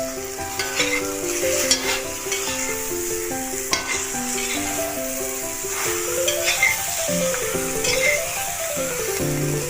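Raw mango pickle cooking with sugarcane jaggery gets stirred in a pan, a continuous bubbling sizzle with scraping spoon strokes and a few sharp clinks, close up and without talk.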